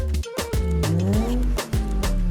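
A straight-six engine in a South African car with a manual gearbox and BBS wheels revs up close and loud, its pitch climbing and dropping through several repeated pulls.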